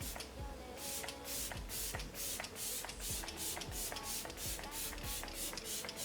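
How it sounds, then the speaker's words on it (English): Short rapid bursts of GLAMDOLL Glow Setter setting spray misted onto a face, a quick steady series of soft hissing pumps repeating close up over several seconds, no talking. "take some of my GLAMDOLL Glow Setter setting spray"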